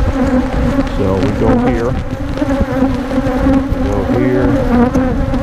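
Honey bees swarm around nuc hive frames in a loud, close, continuous buzz with rising and falling drones, while someone talks briefly over them.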